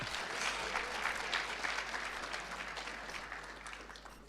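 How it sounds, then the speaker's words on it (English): Audience applause fills a hall at a national ICT summit, a steady wash of clapping held at moderate level and slowly fading toward the end, with no voices over it. "Can we give Honorable Emma Theophilus and Honorable Feni another round of applause"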